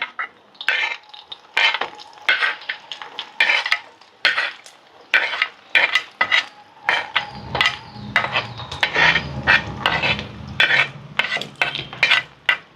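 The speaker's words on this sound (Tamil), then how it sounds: "இப்போ இதெல்லாமே நல்லெண்ணெயில் நல்லா வதங்கட்டும்" Garlic, shallots and green chillies sautéing in sesame oil, dominated by close, rhythmic scraping strokes of a spoon against the pan, with a low sizzle rising underneath in the second half.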